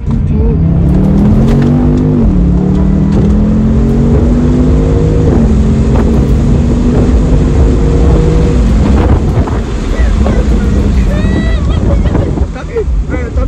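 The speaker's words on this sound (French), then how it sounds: "je fais un tour avec la bagnole." A 569-horsepower car driving and revving, the engine pitch climbing and dropping through several gear changes under loud wind buffeting on the microphone, with a squeal near the end.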